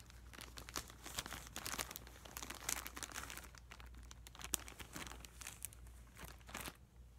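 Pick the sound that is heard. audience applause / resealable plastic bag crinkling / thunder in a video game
resealable plastic bag crinkling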